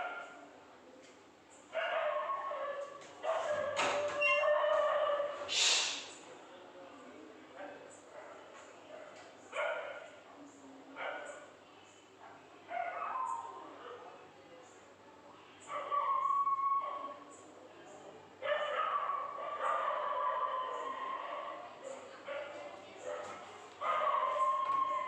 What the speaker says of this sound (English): dogs are barking whenever I'm recording the videos